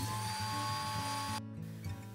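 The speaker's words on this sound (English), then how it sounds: "With a table saw, I cut the two pieces that make up the bottom of the stand." A table saw cuts pieces of wood for a camera stand base, a steady whining hum with strained bursts that drops away abruptly near the end.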